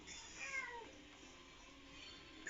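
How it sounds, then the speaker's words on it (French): A cat meows loudly and close by, its voice drawn out in a couple of rising and falling cries over a faint background hum, with no one talking. "Putain, le chat."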